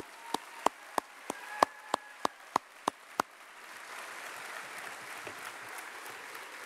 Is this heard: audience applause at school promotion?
yes